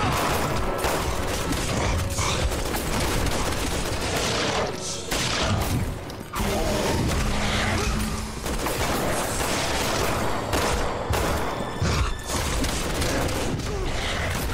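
Gunfire in the Resident Evil 6 video game: loud, dense, continuous volleys of shots and booming impacts with mechanical clatter, filling the whole stretch with only brief dips.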